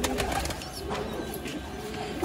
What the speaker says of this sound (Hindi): तो दोस्तों ये कबूतर है